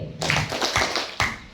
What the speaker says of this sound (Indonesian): Banyak banget tepuk.